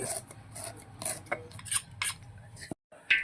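A spoon mixing pakoda batter in a bowl, with repeated soft scraping and clinking strokes close by, irregular in rhythm, broken by a brief silence near the end.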